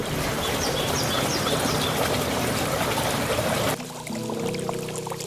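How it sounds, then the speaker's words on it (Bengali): Water runs along a rocky stream trail in a hill forest, a loud, dense, close rush that breaks off abruptly near the end into a quieter, thinner trickle. "ঝিরিপথে বয়ে যাওয়া পানির শব্দ"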